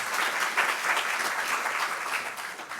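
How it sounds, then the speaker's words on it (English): An audience at a morning mental health talk claps warmly for the speaker, a steady and fairly close round of applause that holds evenly for a few seconds and then eases slightly. "Please, a round of applause for our speaker."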